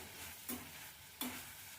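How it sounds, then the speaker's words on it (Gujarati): Chopped tomatoes are stirred into cabbage cooking in a pan: two distinct scraping stir strokes over a soft, low background sizzle, with no talking. "ટામેટાને એકવાર મિક્સ કરી લઈએ"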